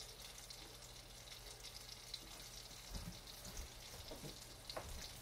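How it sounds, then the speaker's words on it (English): Butter sizzles and pops steadily in a skillet while pheasant back mushrooms are prepared, a soft continuous crackle with a few sharper pops near the end and no talking. "my butter is starting to pop back there"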